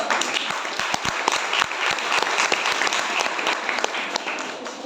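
An audience at a Veer Bal Diwas school event claps, with scattered sharp individual claps standing out over a continuous bed of crowd applause that keeps an even level.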